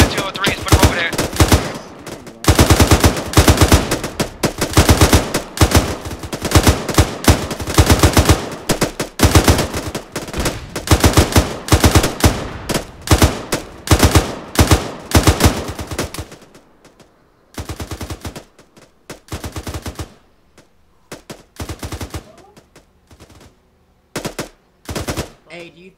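Airsoft guns firing during a winter milsim exercise, loud close bursts of rapid automatic fire in long overlapping strings, thinning out to scattered short bursts and single shots near the end.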